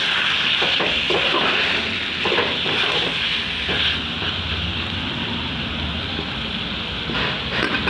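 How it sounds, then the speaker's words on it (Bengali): Salted chicken curry sautés in a pan with a continuous close sizzle and bubbling crackle, loud and steady throughout, with no one speaking. "নুন দেওয়ার পর বেশ কিছুক্ষণ কষতে হবে।"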